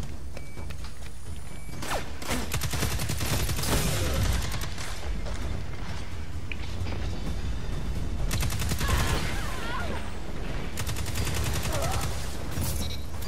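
Dense, continuous gunfire and weapon mechanism clatter from a fusion rifle in Destiny 2 competitive PvP, with bursts and charged volleys packed closely over a steady loud background of game effects.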